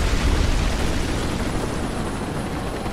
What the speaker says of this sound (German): So, nächster Helikopter.